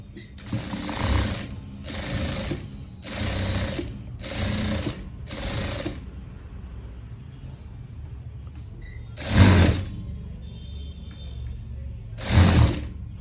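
A sewing machine stitches piping onto a sleeve edge in five steady close bursts, then pauses before two shorter runs, its motor whirring loud and alone.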